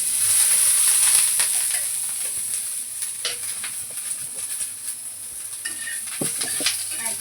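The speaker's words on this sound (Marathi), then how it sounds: "आता आपण याच्यामध्ये थोडंसं तेल घालूया का की लवकर भाजून निघेल" Pieces sizzle and crackle in hot oil in a pan while being roasted for a kaleji petha recipe. A steady, fairly quiet frying hiss runs throughout with scattered small pops and no voices.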